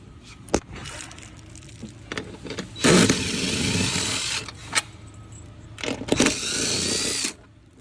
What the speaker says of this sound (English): We do need to go ahead and open those bolts up.